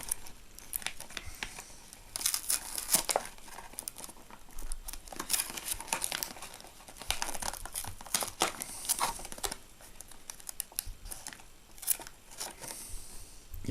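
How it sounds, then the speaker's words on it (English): Toy packaging for a Masters of the Universe Sssqueeze figure, glued at the corners, is torn and crinkled in irregular close bursts of crackling and ripping, faint overall, with no speech. "I just feel like I'm sure I'm going to rip it here"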